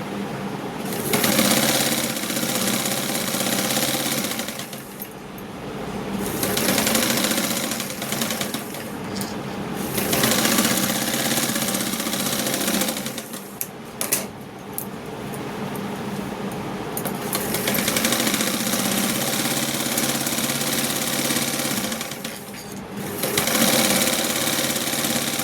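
A sewing machine stitches blouse lining panels in long steady runs, its motor whirring continuously at close range with a few brief pauses between seams.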